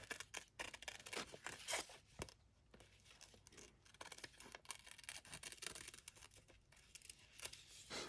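Scissors snipping through glossy magazine paper while trimming around a small lamp picture, a close series of quick crisp cuts and rustling paper handling, fairly quiet with short pauses between bursts.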